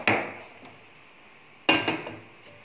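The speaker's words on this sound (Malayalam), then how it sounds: "ഗ്യാസ് കത്തിച്ച് ചട്ടി അടുപ്പത്ത് വയ്ക്കട്ടെ കേട്ടോ." A cooking pan is set down on a lit gas stove while making Kerala-style lime pickle, giving two sharp, close metallic clanks about a second and a half apart, each ringing briefly and fading, with no talking.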